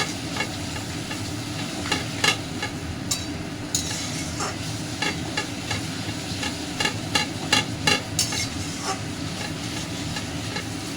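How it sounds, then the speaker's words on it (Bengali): Taro leaves are stirred with spices in a hot pan, in a dish with katla fish head. Rhythmic scraping and tapping of a spatula sounds over a soft, steady sizzle. "এবার আস্তে আস্তে করে মশলার সঙ্গে কচুর শাকটা আমরা মিশিয়ে নেব।"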